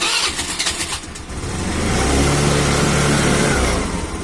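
A Hero Maestro scooter with a starting problem cranks with a few sputtering pulses, then catches and settles into a steady, close, low idle hum.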